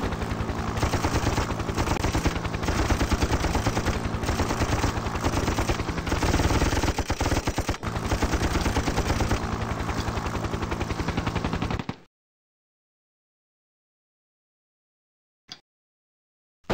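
Rapid, dense automatic gunfire in a video game firefight, loud and continuous bursts for about twelve seconds before cutting to near silence with one brief final pop.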